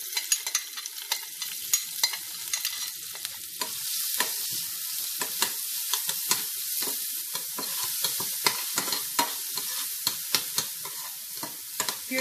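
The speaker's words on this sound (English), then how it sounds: "Once the oil is hot, I am going to add chopped shallots, green chilli and curry leaf." Chopped shallots, green chilli and curry leaves fry in hot oil, giving a steady bright sizzle broken by repeated sharp stirring clicks and scrapes of a utensil in the pan.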